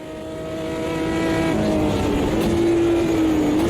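A Brazilian stock car engine in the racing game Automobilista 2 builds from quiet to a loud, sustained drone, its pitch climbing and then holding steady with a slight waver near the end.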